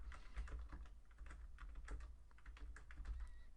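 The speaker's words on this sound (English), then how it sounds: "So I'm just typing in the data from" Steady clicking of keys as data is typed on a computer keyboard, a quiet, irregular patter of taps close by with no talking.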